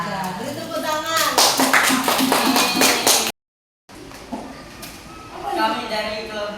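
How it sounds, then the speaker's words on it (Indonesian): Clapping in a primary school classroom: a burst of brisk hand claps over children's voices, then a brief gap, then more talk with light clapping. "Beri tepuk tangan."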